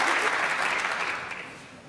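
A snooker crowd in an arena gives a brief round of ironic applause, steady clapping that swells early and then gradually fades.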